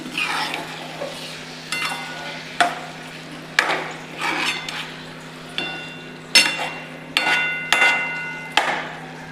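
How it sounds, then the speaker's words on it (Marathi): Whole masoor lentils are stirred and sautéed in a spice masala in a pan, giving repeated scraping, clattering strokes about once a second over a soft sizzle and a steady low hum. "आता आपण यात अख्खा मसूर घालूया. छान परतून घेऊ."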